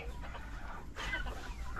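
Rhode Island and brown chickens clucking nearby, a few soft, short clucks over a low background rumble, quiet and with no talk.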